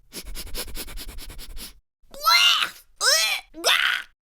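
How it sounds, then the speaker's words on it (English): Quiet rapid sniffing puffs give way to three loud, drawn-out nasal snorts with pauses between them, like an animal snuffling close by. "A dog comes along and sniffs the cookie."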